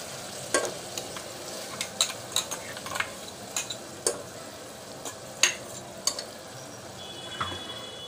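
Masala for dal is stirred in a hot pan, with a soft, steady sizzle broken by a dozen crisp spatula taps and scrapes in an irregular rhythm, close and fairly quiet, with no voices.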